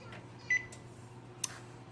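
An oven's control panel gives two short, faint electronic beeps about a second apart in a quiet kitchen, with a low hum underneath.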